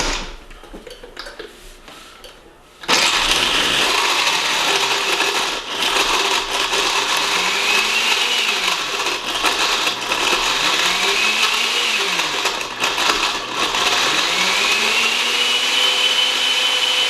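A blender crushes the rest of the ice with Mr. and Mrs. T's pina colada mix for a frozen drink, starting abruptly after a quiet moment and then running loud and steady, its motor pitch swelling and sagging as chunks churn.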